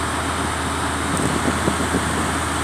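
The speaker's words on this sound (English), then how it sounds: "we're just giving it a little gas to build up pressure a little faster." Truck engine revved steadily during an air brake pressure build-up in a pre-trip inspection, a broad, constant, fairly loud rumble heard from the cab with no talk.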